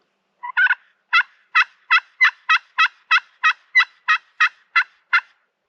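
A single wild turkey gobbles in a rapid burst of about fourteen sharp, evenly spaced notes, loud and fairly close in quiet open country.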